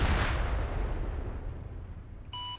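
Artillery fire in the ArmA 3 military game: a loud low boom rolls off and slowly fades over a few seconds, with a faint radio-style tone near the end.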